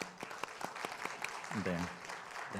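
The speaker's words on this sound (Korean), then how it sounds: "우리 박수 한번 쳐주실까요?" A church congregation at a Sunday service claps in sparse, scattered, fairly faint claps that soon give way to a voice talking.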